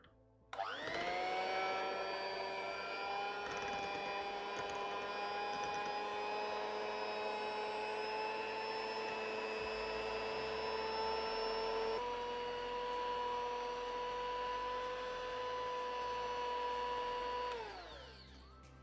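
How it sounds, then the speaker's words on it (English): An electric whisk runs continuously, whisking sugar into yogurt for shrikhand, a steady whining motor tone that shifts slightly in pitch midway, then winds down and stops near the end. "Once you've added the sugar, you can whisk it again until the sugar has combined."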